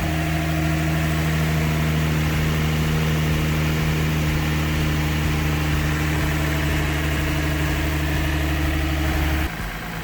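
A car engine idling steadily while warming up to operating temperature for coolant bleeding, a constant close hum with a low droning tone that shifts slightly near the end.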